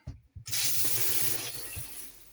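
Water from the shower in a Bailey Senator caravan bursts on after a couple of clicks and runs in a steady hissing stream, close and moderately loud.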